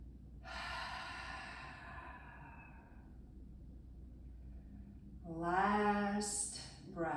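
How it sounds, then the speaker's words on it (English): Deep yoga breathing, a long slow inhale followed after a pause by a fuller, rougher exhale, close and fairly quiet against a low background hum. "Inhale and exhale."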